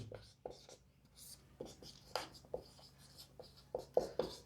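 Chalk strokes on a classroom board come as short, scratchy taps and swipes in a quiet room, some longer than others, with faint soft talk between them.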